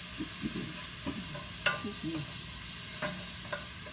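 Red onion sautés in a pan with a soft, even sizzle, joined by a few light utensil scrapes and taps from stirring, and no voices.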